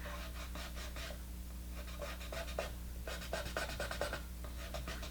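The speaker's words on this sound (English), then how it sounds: "I'm going to erase the line over here." Eraser rubbing out a pencil line on a portrait drawing on paper, quiet repeated back-and-forth scrubbing strokes in short bursts, close and faint with no talking.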